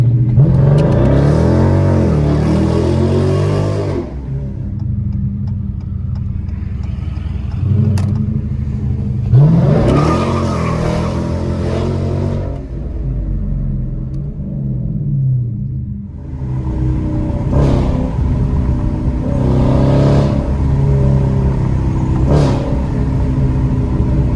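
A Hemi car engine revs hard at full throttle in repeated loud bursts, roaring up and dropping back between pulls, close and powerful.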